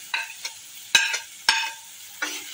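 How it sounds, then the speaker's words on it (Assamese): Potatoes fry with spices in a pan for a fish curry with greens. A low sizzle sits under five or six sharp, separate spatula scrapes and stirs, close and fairly loud. "আলুখিনি অলপ ভাঙি থৈছোঁ আলুখিনিৰ লগত অকণমান সামান্য ভাজি দিওঁ"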